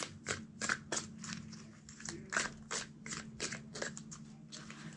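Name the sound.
shuffling a tarot card deck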